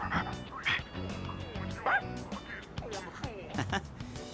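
A dog in the video game Persona 3 Reload gives short repeated barks and yips mixed with whimpers in an irregular rhythm, moderately close, amid soft game sounds.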